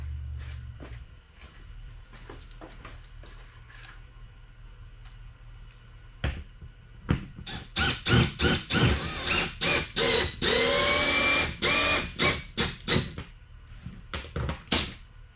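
An M12 drill driver drives screws into wall shelving, first with a few short taps and clicks, then a run of rapid, loud whirring bursts in quick succession close by.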